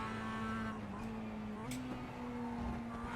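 Mazda MX-5 race car engine in iRacing, a steady droning hum holding one pitch with a brief upward shift midway as the car is driven through corners with understeer.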